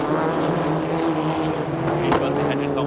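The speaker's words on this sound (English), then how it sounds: "Cars on the back stretch." Race cars blast along the back stretch at the Foxhill Supercross circuit in Diyatalawa, their engines a continuous loud droning roar, with a commentator talking over the racket.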